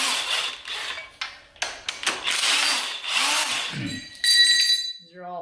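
A power tool runs in repeated short bursts, loosening 15 millimeter bolts on the extension housing of a 4L80E transmission during a rebuild. The whirring is close and loud, with ratcheting clicks between the bursts.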